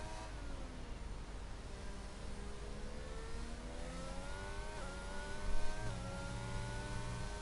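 Aston Martin race car in a racing video game, its engine droning and whining steadily as it accelerates and shifts gears, with rising and falling pitch, mid-distance and without talk.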